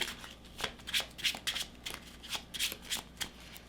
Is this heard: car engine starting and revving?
no